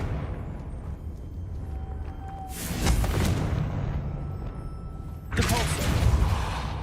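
Two bursting spell blasts from Hogwarts Legacy, each a broad whooshing explosion that swells and rumbles for about a second, spaced a couple of seconds apart amid quieter game ambience.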